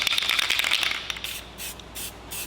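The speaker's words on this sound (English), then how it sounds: "let's put a little paint on it" Spray paint hissing onto a car strut bracket during an R33 Skyline trunk strut kit install, a close continuous spray burst that fades into short intermittent puffs, with no talk.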